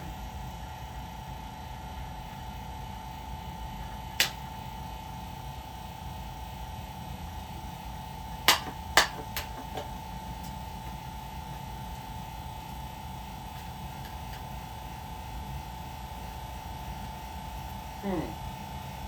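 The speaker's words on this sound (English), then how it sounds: "Turn on the vacuum pump in 3, 2, 1. Let it draw a vacuum for a bit." A vacuum pump runs with a steady motor hum and constant tonal drone throughout, with a few sharp clicks and a faint chirp near the end.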